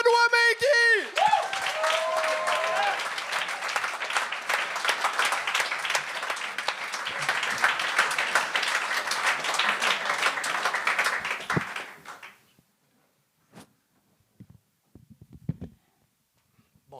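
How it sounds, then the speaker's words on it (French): Studio audience applause greets comedian Benoît Menguy on the Gong Show stage. The clapping is loud and dense, swelling quickly, holding steady for about eleven seconds, then cutting off, with a few faint scattered sounds after. "Un tonnerre d'applaudissements pour Benoît Menguy!"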